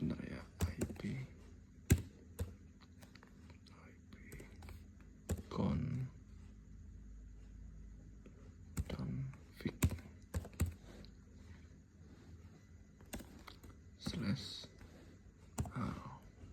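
Computer keyboard keys tapped in short bursts while an ipconfig command is entered, with clusters of sharp clicks separated by pauses, close up and fairly quiet, with some soft voice sounds between the bursts.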